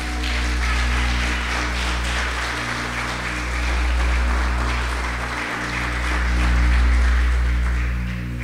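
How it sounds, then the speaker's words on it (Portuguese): A church congregation applauding, sustained broad clapping that swells and eases in waves over a low steady hum, filling the room without pause. "Pode aplaudir o Senhor."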